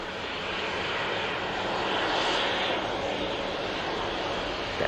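A Helvetic Embraer jet airliner at Manchester Airport roars steadily, swelling slightly louder midway and then holding, a broad engine rush heard alone without talk.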